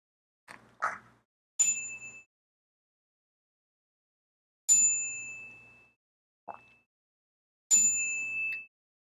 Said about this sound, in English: So we're calling in the bell. Chimes and bells are excellent support.